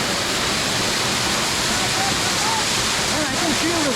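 Katiki waterfall in Araku roaring as a dense, constant rush of falling water close by, with a person's voice briefly rising over it toward the end.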